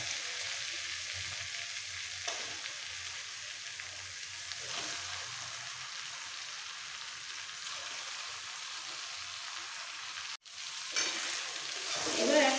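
Marinated chicken frying in spice masala, a soft continuous sizzle with a few stirring scrapes, briefly cut off near the end before it returns louder, quiet and close, with no talk.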